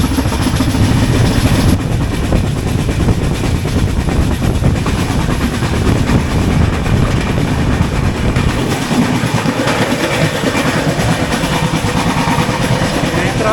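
Netravati Express rushing past at close range, a loud continuous roar of wheels and rumbling coaches over the track, heard from aboard the Kochuveli–Mumbai LTT Superfast Express with steady rail noise throughout.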